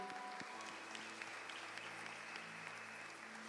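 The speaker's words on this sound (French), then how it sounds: "Vous avez raison d'acclamer pour eux." Congregation at a Sunday church service applauding steadily for the parents, a continuous soft patter of many hands clapping at a distance with faint background tones.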